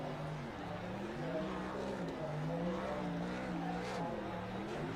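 A racing pickup in the NEP SuperTrucks series does a burnout on the front straightaway in the iRacing sim, its engine droning and wavering in pitch under steady commentary.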